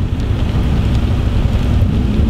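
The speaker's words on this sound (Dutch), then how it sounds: "Aangezien het nog heel hard regent" Heavy rain pours steadily, a dense hiss with a low rumbling undertone, loud and unbroken throughout.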